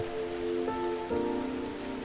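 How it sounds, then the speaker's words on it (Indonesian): Heavy nighttime rain pours steadily throughout, a continuous wash over which a sustained tonal hum or drone shifts in pitch about halfway through. "Malam itu, hujan lebih deras dari biasanya."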